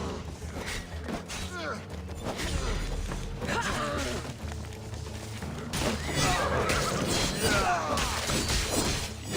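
A horse in Assassin's Creed Odyssey gameplay neighs and whinnies repeatedly amid clip-clopping hooves, clattering mechanisms and crashing game effects, with a player talking over it.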